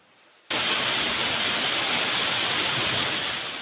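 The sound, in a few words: rain falling in Kotagiri, Nilgiris district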